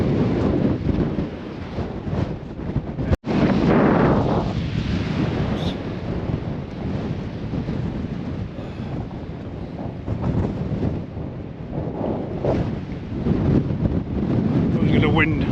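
Wind gusting across open hill countryside near Pendle Hill, a steady broadband roar with buffeting on the microphone lasting throughout, while people talk over it.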